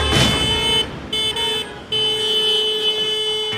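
Cars in a wedding convoy race along the road, with a loud passing vehicle rush and sustained horn or alarm tones sounding close by, then briefly cutting out before resuming.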